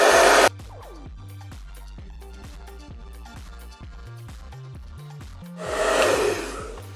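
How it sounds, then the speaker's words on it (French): A hair dryer blows in a loud whooshing rush at the start and again near the end, with rhythmic music playing steadily between the bursts. "Ok, et donc on va passer au sèche-cheveux."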